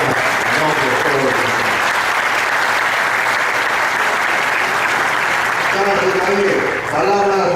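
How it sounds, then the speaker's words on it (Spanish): Sustained audience applause at a national criminal law and criminology congress, dense and loud throughout, with a voice beginning to speak over it near the end. "Los aplausos para la gente que está en nombre de todos"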